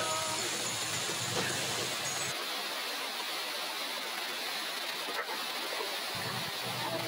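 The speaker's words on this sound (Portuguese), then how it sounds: "Essa queda d'água aí muito bonita" Janjana waterfall in Tinguá, a steady broadband rush of falling water heard up close, constant and fairly faint.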